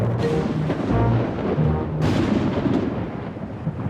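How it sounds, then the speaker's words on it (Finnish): Thunder rolls in a storm: a deep, sustained rumble with a fresh crack and swell partway through, loud and close, with no one speaking. "Tulee ukkonen."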